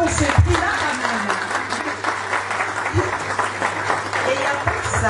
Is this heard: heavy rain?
no